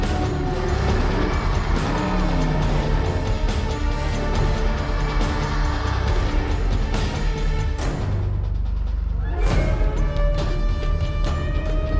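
An off-road race vehicle roars flat out in a desert race at King of the Hammers, with a loud, continuous engine drone that dips briefly and then surges back.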